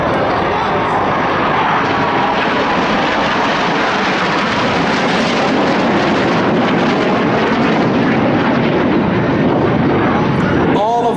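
Saudi Hawks aerobatic jets fly a display formation with a loud, continuous roar that swells and shifts as they pass overhead, filling the whole stretch. A commentator speaks over it.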